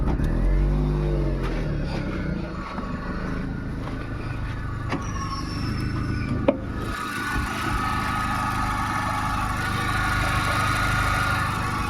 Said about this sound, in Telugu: చాలా స్మూత్గా ఉందండి ఇంజన్ కండిషన్ కూడా